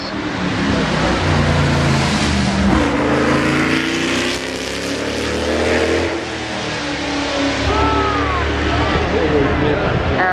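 A McLaren accelerates hard away from the start line at the Goodwood Festival of Speed, its engine roaring and rising in pitch continuously, heard on board, while a commentator talks over it.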